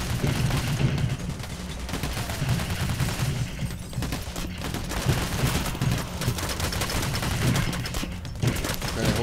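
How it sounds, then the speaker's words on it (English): Sustained gunfire rattles through a bank robbery in the video game Payday, bursts of rapid shots overlapping continuously and loudly for the whole stretch with no pauses. "Oh crap, I shot the hostage."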